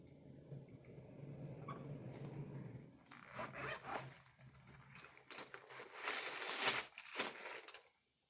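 A Sienna Nora zipper pouch is unzipped close by in a few quick, raspy pulls after a soft rustle of handling. There is no talking.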